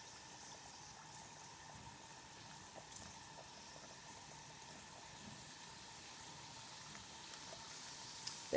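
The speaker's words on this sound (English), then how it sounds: "so I'm going to start frying." Dandelion blossom doughnuts fry in hot oil, giving a steady, soft, even sizzle that runs unbroken throughout, with no talking.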